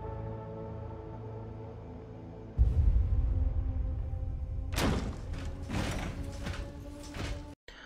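Heavy mechanical doors opening in a Fallout episode: a steady machine hum, then a loud thud, a grinding rumble and a run of clanking mechanism noises, ending abruptly, with no talking.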